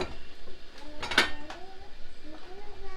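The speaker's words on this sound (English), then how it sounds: "Stir that up a little bit." A metal spoon stirs cranberry sauce boiling in a pot, giving scattered clinks and scrapes against the pot over a soft bubbling background, close up, with people talking quietly.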